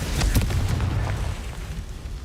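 A Confringo fire spell detonates in Hogwarts Legacy, a loud close burst with a deep boom at the start that rumbles and crackles away over the next two seconds.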